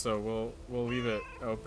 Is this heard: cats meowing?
yes